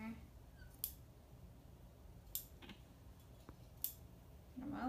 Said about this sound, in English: I'm just going to trim some of those extra threads that I have going on here